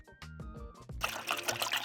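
Water poured into a backpacking stove pot, a brief close trickle and splash that starts after some faint clatter and grows into a steady broadband pour for the last second.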